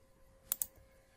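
Two quick clicks of computer keyboard keys pressed for a shortcut in a word processor, sharp and close over a faint background hum, no talk.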